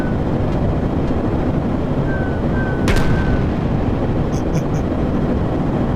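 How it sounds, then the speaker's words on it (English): Bombs dropped from a flying airplane burst over an apple farm in VRChat, one sharp blast rising above a steady loud rumble of engine and game noise, followed by a few faint high chirps. "We're going to bombs away at the apple farm."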